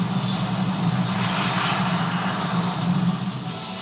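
A plane taking off, a loud, steady engine roar with a low droning hum that holds nearly level throughout and swells slightly near the end, with no voices.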